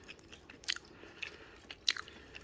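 Crunchy bites and chewing of a spicy Carolina Reaper pepper, with a few sharp close crunches standing out against quiet mouth sounds and no talk.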